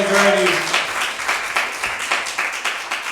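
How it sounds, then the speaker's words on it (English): A comedy show audience breaks into applause, a burst of dense clapping that tapers to scattered claps, with a voice at the start. "Give yourselves a round of applause."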